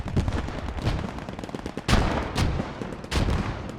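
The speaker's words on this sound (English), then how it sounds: "And those mortars are coming in on the right position." Mortar shells landing in a multiplayer war video game, Red Devils against Kings German Legion, as a rumbling barrage of heavy booms with sharp blasts standing out near two and three seconds, no voices.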